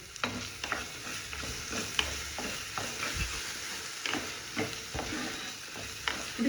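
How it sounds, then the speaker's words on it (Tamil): Mint and coriander leaves with chilli powder being sautéed in a pan, with a steady frying sizzle and repeated spoon scrapes and stirs against the metal. "வதக்கி விடு."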